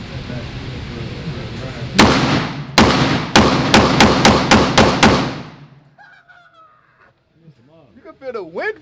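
Loud gunshots from firearms at a shooting range, about eight sharp blasts in quick succession, the first few spaced apart and the rest faster, followed by quiet and brief voices talking.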